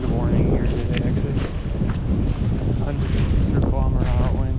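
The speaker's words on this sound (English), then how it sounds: "And again today, crazy windy." Strong wind gusting outdoors on a day with a wind warning and gusts near 100 km/h, a loud continuous rushing roar buffeting the microphone throughout with no break.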